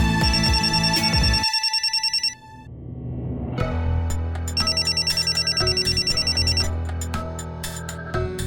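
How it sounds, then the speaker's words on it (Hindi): A telephone rings loudly and close by with repeated bright electronic trills, pausing briefly before the ringing resumes over a low tone. "किसका फोन आया है?"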